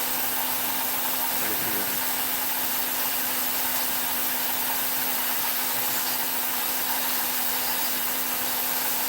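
A heat tool blows steadily onto the beard of a wood spirit carving during a live carving session, giving a constant airy roar with a faint steady hum, while a voice speaks briefly over it.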